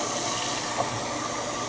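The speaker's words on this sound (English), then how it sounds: "So, step one, I fill this with lots of water," Water from a tap pours into a container at a bathroom sink, a continuous bright rushing hiss heard alone and close for a brief moment.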